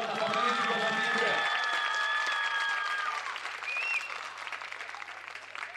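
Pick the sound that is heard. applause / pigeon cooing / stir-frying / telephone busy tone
applause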